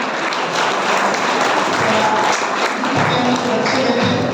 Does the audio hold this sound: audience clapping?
yes